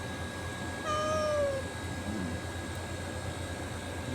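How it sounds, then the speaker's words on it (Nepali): A single cat gives one clear meow, close and distinct, over a steady low background hum. "बिरालो"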